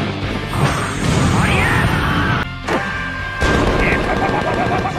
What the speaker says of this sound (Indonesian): bos mereka mengeluarkan minigun dan mulai menembaki Shiki dan Rebecca.